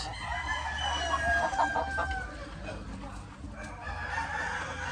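White Leghorn chickens on a farm, a rooster crowing with sustained drawn-out calls amid steady clucking and hen chatter, fairly close and continuous throughout.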